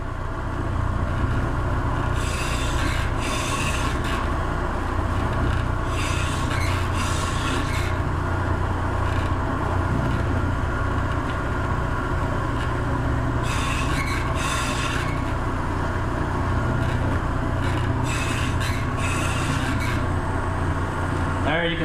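Fleshing machine shaving a deer cape for taxidermy, a loud continuous grinding, rasping whir with shavings coming off, steady throughout with periodic scraping surges.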